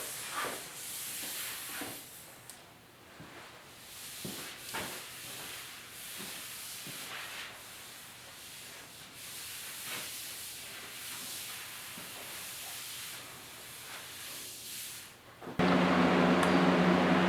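A paint spray gun lays patina paint onto the rear fenders of a 1956 Mercury pickup, a steady close hiss with faint pulsing variations that gives way to a sudden, much louder broadband burst near the end.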